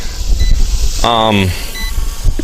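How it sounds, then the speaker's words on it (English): A Hubsan X4 Pro H109S FPV GPS quadcopter drone sounds a low battery warning: a single steady electronic beep lasting about half a second, heard near and clear between stretches of someone talking. "It's giving me a battery low readout and a beep once in a while."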